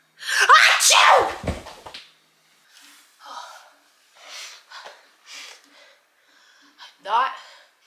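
A loud, forceful sneeze erupts at the start, followed by a few short spoken phrases and a second sharp sneeze-like burst near the end, all close to the microphone.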